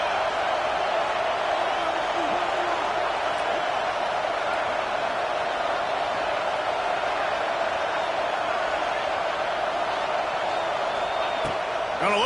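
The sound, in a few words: crowd roaring in NCAA 26 football video game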